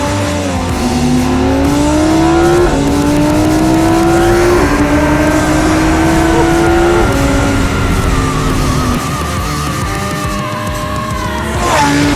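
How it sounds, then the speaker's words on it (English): Naturally aspirated V10 engine of a Lamborghini Huracan accelerating on an open road, a loud, close howl climbing in pitch through several gear changes, each shift briefly dropping the note before it rises again. "Nothing like a naturally aspirated V10 for theatre"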